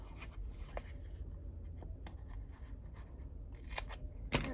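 Scissors trimming paper for a handmade envelope, with a few soft snips and rustling paper over a low hum, quiet and close, ending in a sharper cut.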